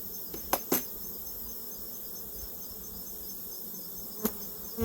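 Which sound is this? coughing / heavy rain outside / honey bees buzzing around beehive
honey bees buzzing around beehive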